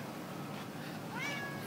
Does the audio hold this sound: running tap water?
no